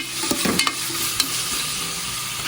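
Mint and coriander leaves sautéing in a pan for prawn biryani, a steady loud sizzle with a few quick stirring scrapes early on.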